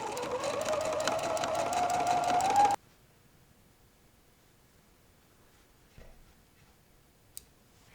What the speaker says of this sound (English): All right, sew this up.